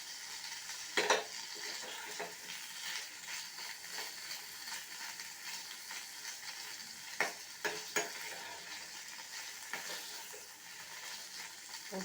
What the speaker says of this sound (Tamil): நல்லா செவக்க கொஞ்சம் ஃப்ரை பண்ணிக்கோங்க